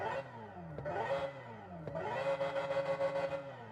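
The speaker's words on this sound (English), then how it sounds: "So this one is supposed to sound like a futuristic electric car." Synthetic futuristic drive sound from a Hyundai Ioniq 5 N electric car, a tonal, layered whine that sweeps up and down in pitch with simulated gear shifts, rising again into a sustained buzzy rev.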